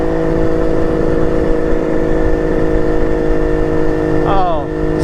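A carbureted motorcycle cruising in fifth gear at about 3,300 RPM, a loud, steady engine drone with a constant tonal hum and rushing wind, briefly shifting in pitch near the end.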